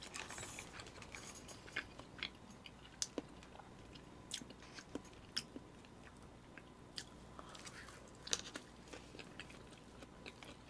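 Someone chews convenience-store gimbap from a GS store, with close, quiet, moist bites and crunches repeating at an irregular pace and no talking.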